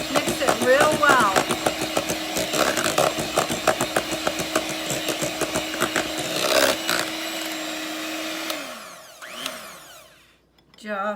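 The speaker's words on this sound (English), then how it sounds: "Still not used to my mixer, but hey, it works." An electric mixer whirs through apple cider doughnut cake batter, its motor droning with rhythmic rattling and changing pitch, then winding down and stopping near the end.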